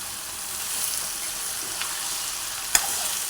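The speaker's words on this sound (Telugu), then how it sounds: "బీరకాయ ముక్కలు టమాటా ముక్కలు వేసుకొని బాగా కలుపుకోవాలి" Ridge gourd and tomato pieces are stirred while frying in a pan for a curry, making a steady soft sizzle with a few faint scrapes and one sharp metallic click near the end, nearby and without voices.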